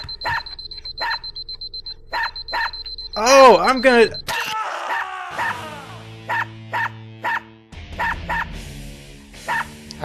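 Steady, repeated dog barks from the video game Unepic, short bursts at a regular beat, interrupted by someone talking loudly in the middle and followed by game tones and more barking.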